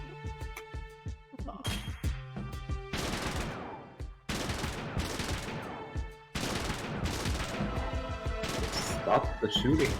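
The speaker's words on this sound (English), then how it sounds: "Stop the shooting." Gunshots from the video game LISA The Painful come in several loud, sharp bursts separated by short pauses, each crack ringing out with a harsh, clattering decay.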